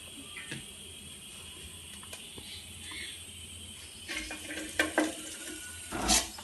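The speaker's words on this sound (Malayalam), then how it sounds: "അത് പാത്രത്തിൽ കൂടെ വെള്ളം മൊത്തം പോണം" Water trickles quietly through a vessel, then runs and splashes more strongly toward the end, as water drains off while cooking Kerala-style chicken curry.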